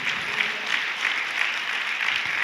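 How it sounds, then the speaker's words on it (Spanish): A church congregation claps together in steady, sustained applause, a dense wash of hands filling the room from start to finish with no voices on top. "Ahora puede aplaudir al Señor"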